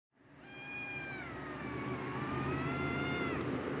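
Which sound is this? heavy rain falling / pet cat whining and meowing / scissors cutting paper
pet cat whining and meowing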